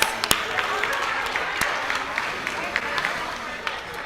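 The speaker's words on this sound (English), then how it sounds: "All right, big round of applause." A congregation at a Purim service breaks into a round of applause, dense clapping and crowd noise running steadily for about four seconds with a few sharper individual claps standing out.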